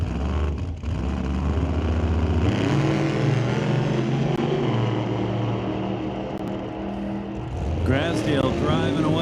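A drag racing car at a Smoke Fire and Thunder eliminations event pulls away from the line, its loud engine roaring and shifting pitch for several seconds before fading, with an announcer talking over it near the end.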